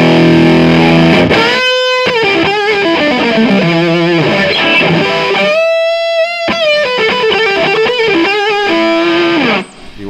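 Electric guitar chords played through a Visual Sound Jekyll & Hyde distortion pedal, heavily overdriven and sustained, with a brief gap before a second strummed chord rings out loud and full, no voice.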